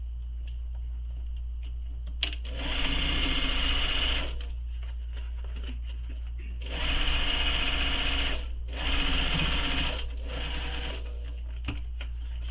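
A sewing machine stitches a backpack panel in bursts of steady mechanical whirring and rapid needle ticking, loud and close, separated by brief pauses and small clicks, with no talking.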